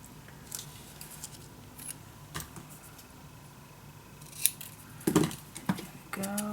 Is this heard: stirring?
no